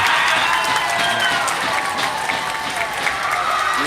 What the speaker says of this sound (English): they cheer with volume over on that right side